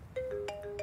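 A mobile phone rings with a short electronic melody, a few quick tones over a quiet room in a comedy scene set around a prison warden's stolen phone.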